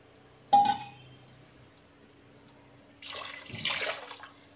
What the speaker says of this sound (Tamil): ரெண்டு கிளாஸ் தேங்காய் பால் ஊற்றுறோம்